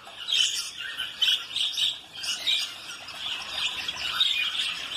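Parakeets in an exotic bird aviary give a continuous mix of shrill squawks, chirps and squeals, several birds calling at once at moderate distance with no talking.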